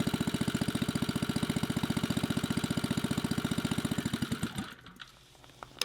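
A 3HP rototiller engine driving a homemade car-alternator generator idles with a fast, even loud chugging, then stumbles and dies near the end, leaving a quiet tail.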